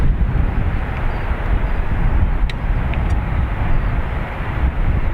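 A WestJet Boeing 737 Max 8 jet taking off from Dublin Airport for Toronto, a loud sustained broadband engine roar, steady throughout with a slight dip near the end, no talk.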